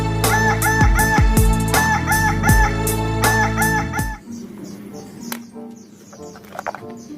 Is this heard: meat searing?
no